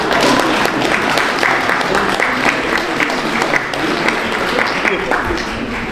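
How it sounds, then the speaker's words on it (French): Crowd applause for a medal recipient at an 11 November commemoration in Brumath, a loud continuous wash of clapping with a murmur of voices underneath. "Je pense qu'on peut l'applaudir."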